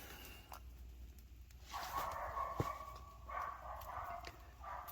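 A dog barks in short, repeated bursts at some distance outdoors near a tent, the yaps faint and spaced over a quiet background.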